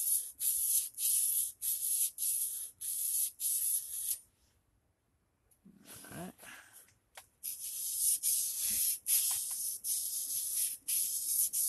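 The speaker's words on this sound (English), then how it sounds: "when you file this Scandi bevel on" A hand file sharpens a Scandi bevel on an axe head in repeated harsh, hissing strokes, steady and close, with a short pause and some quieter knocking partway through before the rhythmic filing resumes.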